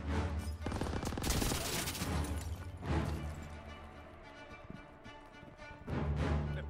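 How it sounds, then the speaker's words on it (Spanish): Heavy machine gun fire from a World War II battle in Call of Duty: WW2 roars in sustained loud bursts, fading into scattered shots and debris before another intense volley erupts at the end. "¡Ametralladora!"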